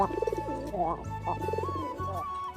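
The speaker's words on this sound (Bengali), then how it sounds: "এই যে কবুতরটা খুবই সুন্দর ডাকে" A pair of black pigeons coo in short pulsing trills close to the microphone, a few rounds of soft throaty calls with a person talking over them.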